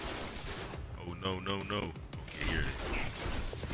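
Bursts of tactical SMG gunfire in the video game Quantum Break, rapid rattling shots in clusters, with a voice talking over part of the sequence.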